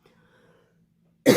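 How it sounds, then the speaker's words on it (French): A single sharp cough bursts in near the end after a stretch of near silence with a faint low hum. "Je tousse un petit peu."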